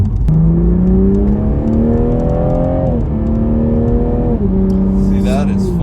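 A 2021 Toyota Supra 3.0 accelerates hard, its engine climbing through rising revs with quick gear changes, loud and close from inside the cabin, with a person talking over it.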